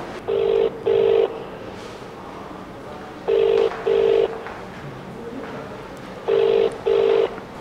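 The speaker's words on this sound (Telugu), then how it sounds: "కాల్ కట్ చేశారు, మళ్ళీ కాల్ చేద్దాం" A telephone ringback tone repeats as a call is redialed, sounding three paired rings at even intervals, clear and loud over a faint background hiss.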